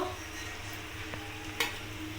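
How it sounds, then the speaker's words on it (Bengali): Soft, even sizzling of cabbage fritters frying in oil in a wok, with a faint stir and a small clink partway through. "আমি তিনটে তিনটে করেই ভেজে নেব"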